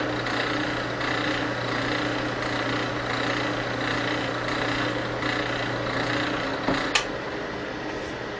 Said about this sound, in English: So now we're going to be drilling it again for